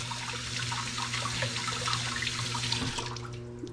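Water runs steadily from a kitchen tap as potatoes are scrubbed with a sponge beneath it, a continuous close splashing hiss with small bursts of handling.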